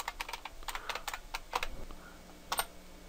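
Keystrokes on a computer keyboard typing a server name into a browser, a quick irregular run of close clicks with short pauses between bursts.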